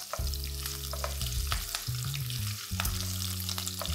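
Curry leaves torn by hand crackle and sizzle in hot tempering oil in a pan, stirred steadily; a constant close frying hiss runs alongside low tonal clinks from the utensil, with no talking.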